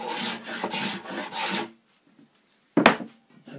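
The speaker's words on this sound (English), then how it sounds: "I'm going to do a little bit of planing up here." A hand plane shaves a high spot on a wooden guitar fingerboard: four quick rasping strokes in a row, a brief pause, then one more short stroke, close and fairly loud.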